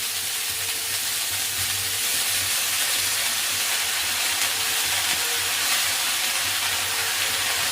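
Leafy greens fry in ghee in a pan, producing a dense, continuous hissing sizzle that stays loud and even throughout, close up, with a low steady hum beneath and no one speaking.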